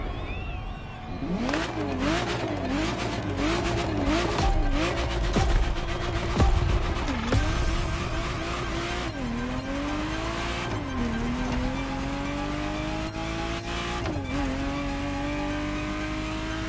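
A Ferrari Testarossa in the racing game The Crew Motorfest, its engine loudly revving and shifting through repeated gear changes, with tire squeals and a voice talking over the drive.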